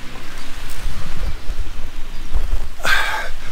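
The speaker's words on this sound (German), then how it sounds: "Also, es regnet." Steady rain hiss with low rumbles of thunder, ending in a sharp crack near the close; the storm sound effect is loud and continuous, with no voices.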